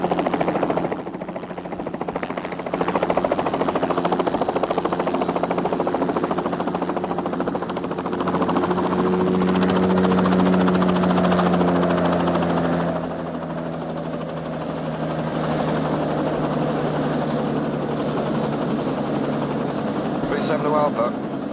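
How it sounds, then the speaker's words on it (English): Helicopter arriving for a pickup, a loud continuous rotor and engine drone that swells and holds throughout with a faint pitch shift midway, heard under occasional speech. "It looks like a helicopter pickup for Ojuka."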